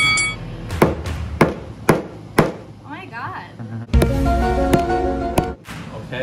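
A hammer strikes an iPhone 7 fitted with a liquid glass screen protector, several sharp separate impacts in a row, followed by more knocks and handling noise, with people talking between the blows.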